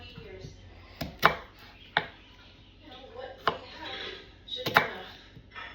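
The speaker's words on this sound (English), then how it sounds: "Show you how to cut the onion." A knife chops an onion into small pieces on a cutting board for pasta puttanesca, with about eight sharp, uneven knocks up close over quiet background.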